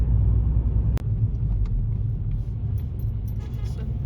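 A car creeping slowly behind a long lorry on tight corners, with a steady low engine and road rumble throughout, a sharp click near the start and faint light rattles above.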